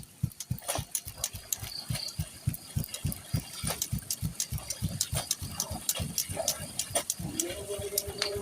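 Small boat engine revving, a rapid chugging pulse of loud, close bursts that speeds up and roughens toward the end, with a faint rattle and no talking.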